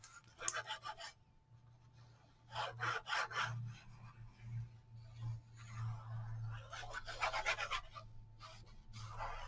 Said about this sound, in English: And burnish it in. Get rid of any bubbles, wrinkles, glue mess.